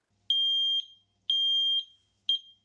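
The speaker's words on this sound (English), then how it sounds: "all of the other alarms should sound as well." Piercing high-pitched beeps from interlinked smart smoke alarms during an interlink test, in a regular pattern, three half-second tones about a second apart, loud and close.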